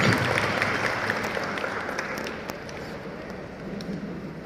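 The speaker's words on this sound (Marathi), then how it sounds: "टाळ्या वाजूया जोरदार आपण या कार्यक्रमाच्या." Applause from an audience at a primary school closing ceremony, a dense broadband clatter of many hands that is loud at first and tapers slightly, with voices mixed faintly underneath.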